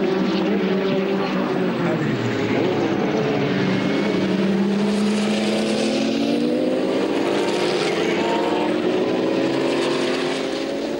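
A Porsche 962 race car rockets past at speed, its engine tone rising and falling as it passes, with a roaring drone that fills the whole stretch.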